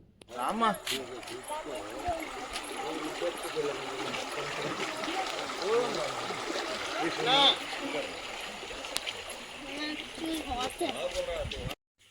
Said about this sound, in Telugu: అక్కడక్కడ వాటర్ స్ట్రీమ్స్ లాగా ఉన్నాయి. వాటి సౌండ్ ఫ్లో అయ్యేటప్పుడు భలే ఉంది వినడానికి.